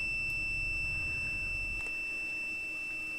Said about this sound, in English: I have never had a continuity test where the volume changes with resistance.